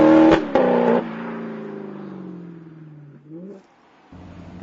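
The 4.7-litre V8 of an Alfa Romeo 8C roars from its exhaust, revving hard at first and then winding down in a long falling drone, followed by a brief blip and a quieter idle.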